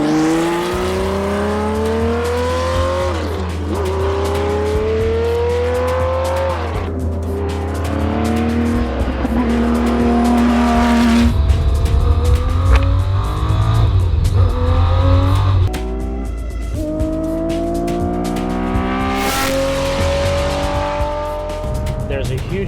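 Porsche 917 race car at full throttle, its engine roaring loud and close with rising and falling revs through gear changes, brief tire squeal and a pass-by surge, with a voice talking faintly underneath.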